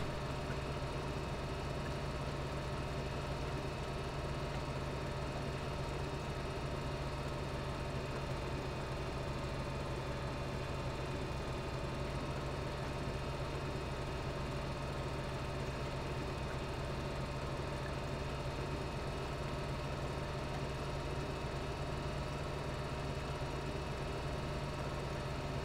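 Steady low tractor engine idle in Farming Simulator 2013, a constant drone with a strong low hum and even mechanical texture running unchanged throughout, with no talking.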